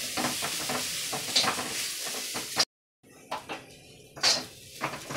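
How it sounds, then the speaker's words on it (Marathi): Modak filling is stirred and roasted in a pan, a metal spoon scraping and clattering against the pan over a faint sizzle, with a brief silent gap mid-clip before the scraping resumes. "हे सारण छान आता एकजीव करून भाजून मस्त हे भाजलेलं आहे"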